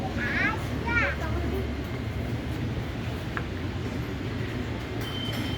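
A Commuter Line train on the Bogor–Juanda line rumbles past at a moderate distance with a steady rolling roar, while children's voices and chatter rise over it near the start.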